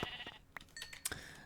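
A brown sheep in the video game Minecraft bleating, two or three short, close bleats in quick succession.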